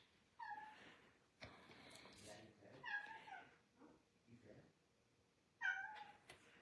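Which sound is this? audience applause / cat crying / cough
cat crying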